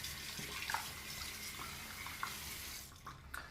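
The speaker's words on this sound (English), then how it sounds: "So we're going to dip a little in and add a little bit more water to it just because it's been sitting." Water being added to shaving cream in a bowl, a steady running trickle with small splashes and drips throughout, fairly quiet and close.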